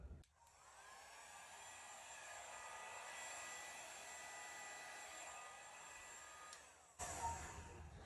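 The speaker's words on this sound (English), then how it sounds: "I'm gonna blow that blue actually over these and then I'll blow it out." A hair dryer blows blue acrylic paint across a Dutch pour canvas, giving a steady, close, loud whooshing roar that holds for about seven seconds before a brief dip and restart.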